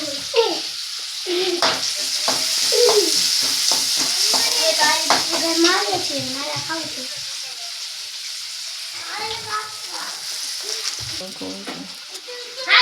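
Spices crackle and sizzle in hot oil continuously as a tempering for masala dosa, while a person talks over the frying for much of the time.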